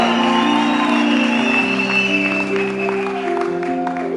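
An audience at a Rwandan church gathering applauds continuously, the clapping mixed with sustained music and faint crowd voices.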